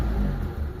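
Under a second of the Mitsubishi Lancer's 4G13 engine being revved, a close, loud, steady rumbling drone with a slight dip partway through and no voices.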